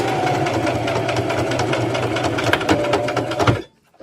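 A sewing machine stitches a seam on a fabric wrap for a hot cocoa cup, with a steady fast mechanical whir and rapid needle clatter running continuously up close, then stopping abruptly near the end.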